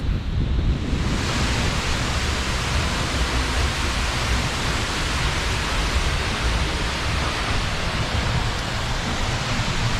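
A waterfall in Iceland roars as a steady, dense, loud wash of rushing water, continuous and unbroken throughout, with no voices.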